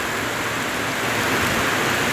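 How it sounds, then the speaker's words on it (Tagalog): Heavy tropical rain pours down in Calinog, Iloilo, Philippines, a steady, dense hiss of water that stays even and close throughout, with no voices. "ulan ang ulan eh"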